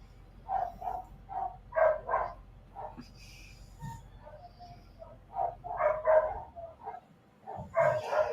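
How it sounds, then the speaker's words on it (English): Dogs in a kennel room bark in short muffled bursts that sound distant, with a few whimpers mixed in and faint talking in between. "sorry about the dogs, guys."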